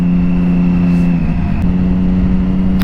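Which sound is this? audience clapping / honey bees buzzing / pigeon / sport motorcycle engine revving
sport motorcycle engine revving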